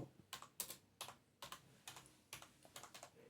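Keys clatter on a computer keyboard as a command is typed in, coming in quick uneven bursts of close, crisp clicks with short pauses between them.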